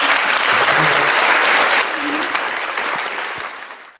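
Audience clapping at a magic show, loud dense applause that holds steady and then gradually tapers off, with a brief bit of laughter-like voice underneath.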